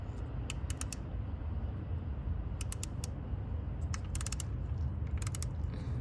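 Wrench clicking as bolts on the plastic-over-aluminum intake manifold of a second-generation Chevy Colorado are torqued down; light ratcheting clicks come in short bursts over a steady low rumble.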